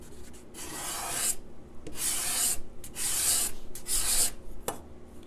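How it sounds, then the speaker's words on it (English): A hand card scraper shaves thin curls from wood, four or five close, rhythmic rasping strokes with short quiet gaps between them and a soft knock near the end. "you are actually shaving or planing this wood rather than sanding it or anything"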